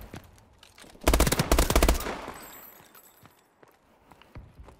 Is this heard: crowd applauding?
no